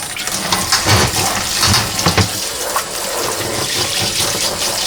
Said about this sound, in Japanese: 土がつきすぎてるんで洗いましょう。